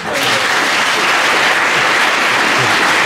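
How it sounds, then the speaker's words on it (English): An audience at a school open day applauds loudly and steadily, a dense, sustained wash of many hands clapping throughout, with no talking over it. "I think they all deserve another big round of applause."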